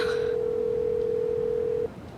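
A telephone gives a steady electronic tone for almost two seconds, clear and fairly close, then stops, leaving quiet room noise.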